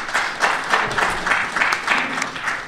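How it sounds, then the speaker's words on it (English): Listeners at a talk on structural change break into applause during the speech, a moderately loud patter of clapping with rhythmic swells, no speech over it. "I thought that might be an applause line."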